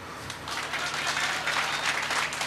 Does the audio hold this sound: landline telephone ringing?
no